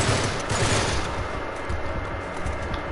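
Gunfire in the video game Uncharted 3, a dense, continuous rattle of rapid shots and bursts, loud and close throughout with no clear pauses.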